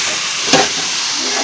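Chicken meat drops into hot fried spice paste in a pan, setting off a brief loud burst of sizzling over a steady frying hiss.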